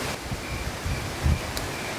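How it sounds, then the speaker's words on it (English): Wind blows outdoors, buffeting the microphone with a continuous rushing noise and a few low gusty thumps, loud and close, with no speech. "it's so windy out here right now"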